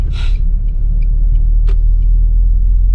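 A tow vehicle pulls away while towing a Toyota Corolla on a road trip, giving a loud, steady low engine rumble that holds throughout, with a brief higher hiss near the start and no talking.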